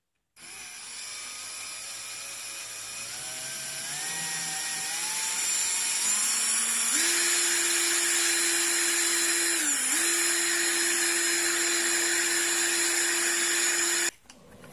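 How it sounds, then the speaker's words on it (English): Brass cartridge cases being trimmed with a Lee case length gauge and lock stud, driven by a power drill: a steady motor whine that climbs in pitch, holds loud and continuous, dips briefly, then cuts off near the end. "We're going to go ahead and trim all these up using the old school method"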